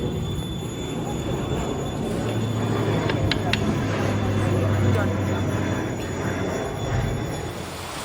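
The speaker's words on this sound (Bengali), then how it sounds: "মেঘ ডাকছে, বাইরে এক্ষুনি নামবে বৃষ্টি।" Low thunder rolls continuously before rain, a deep, steady rumble filling the whole stretch under faint broadband hiss, with no clear single crack or peak.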